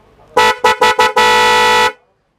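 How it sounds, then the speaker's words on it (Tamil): An aftermarket car horn of the Volkswagen Polo type sounds close and loud: four short beeps in quick succession, then one long sustained honk. "ஹார்ன் பாத்தீங்கன்னா இது 250 வோக்ஸ் வேகன் போலோ டைப்புங்க"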